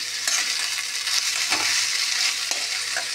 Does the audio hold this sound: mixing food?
yes